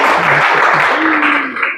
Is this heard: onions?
no